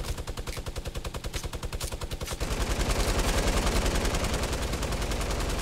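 Rapid automatic gunfire from a light machine gun in a Fortnite 50 v 50 match, steady bursts of evenly spaced shots that grow denser and louder partway through, with no talking.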